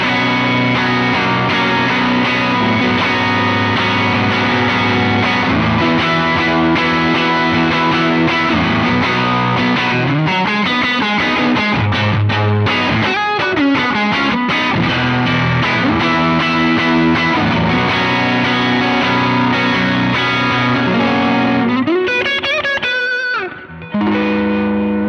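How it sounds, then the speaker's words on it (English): Electric guitar played through a Helix Ventoux amp model with the drive turned up, giving a crunchy, effects-laden tone; sustained chords and busy picked passages ring out loud and alone, ending with a brief dip near the close. "What I did was to increase the drive on the Ventoux amp"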